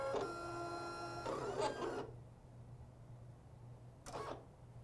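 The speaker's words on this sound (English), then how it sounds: "I'm just loading them all in. But that is something you can do with the silhouette machine." A Silhouette cutting machine cuts paper for a 3D card, giving a close whirring, whining motor hum with shifting pitch for about two seconds, then a quiet pause and another short motorized burst.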